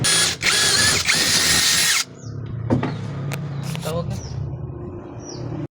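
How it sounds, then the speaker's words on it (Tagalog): A power drill bores a hole for mounting a clutch pedal handle on a Bajaj RE, running loud and steady for about two seconds before stopping, followed by faint clicks and handling noises. "bubutasan lang muna natin siya"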